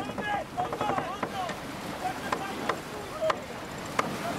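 On board the MOD70 racing trimaran Race for Water under sail, a steady wash of wind and water with creaks, clicks and squeaks of gear, crew voices talking over it.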